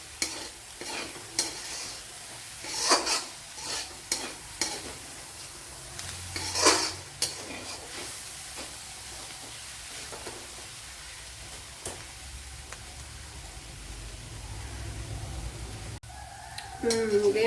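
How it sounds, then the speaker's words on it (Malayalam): Spinach thoran (cheera) cooking in a covered pan, being stirred now and then so it doesn't stick and burn: scattered scraping and stirring clatters over a steady low sizzle, with some utensil knocks, fairly close and moderately loud. "ഇടയ്ക്കിടയ്ക്ക് എല്ലാം അടപ്പ് തുറന്ന് ഇളക്കി കൊടുത്തോണ്ടിരുന്നു, അല്ലെങ്കിൽ ചട്ടിയിൽ കയറി പിടിക്കും"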